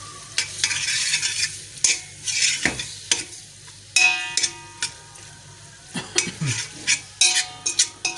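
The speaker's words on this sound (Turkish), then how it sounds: "Etimizi koyduk. Şu an karıştıracağız." Meat stirred in a pot for garlicky kelle (sheep's head) soup, with repeated scraping clatters of a utensil against the metal over a steady low sizzle, loud and close with no talk.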